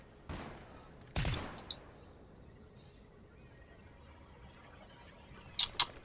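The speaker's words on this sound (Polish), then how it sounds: "No nie, ktoś tam się strzela." Gunfire in the video game Fortnite, heard as a few short, sharp bursts separated by long quiet stretches, faint to moderate and without talking.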